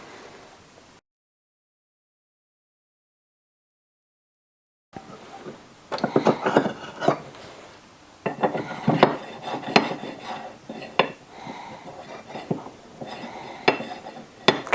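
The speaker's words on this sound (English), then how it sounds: "So let's get this unboxed and get it fitted to the gearbox." Unboxing and fitting new Ford Anglia gearbox parts: after a quiet gap, close metallic clinks, rattles and scraping of small parts and packaging come in irregular bursts, with no talk.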